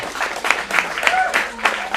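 Brief applause from a small acting-studio audience at a Monday script showcase in Phoenix, scattered claps rising in a few sharper bursts over about two seconds, with no talk.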